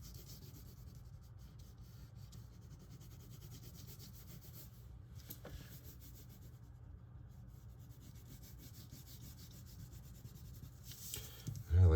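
Colored pencil rubbing steadily across paper while green grass is filled in, a soft continuous scratchy rasp, faint and close, with no talk.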